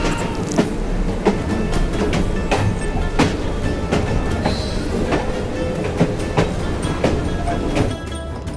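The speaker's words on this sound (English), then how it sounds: "At least we have a train now." A steam train runs through the streets of 19th-century London in Assassin's Creed Syndicate: a loud, steady, close rumble with rhythmic wheel clacks and clanks throughout, with no voices.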